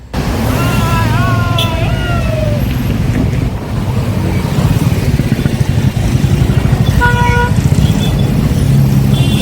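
Traffic jam at Patto Bridge with a stationary Kadamba bus, a steady loud rumble of engines and road noise with wind buffeting, plus car horns honking at intervals.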